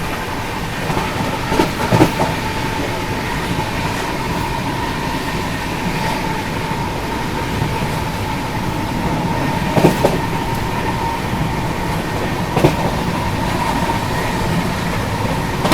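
A Humsafar Express running nonstop toward Warangal gives a continuous loud rumble of wheels on rails, with a steady hum and scattered rhythmic clacks over the whole run.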